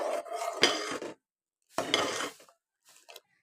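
A spoon stirs payesh milk with sugar and a pinch of salt in a pot, producing two short bursts of scraping and clinking against the metal and then a fainter third scrape, with quiet gaps in between.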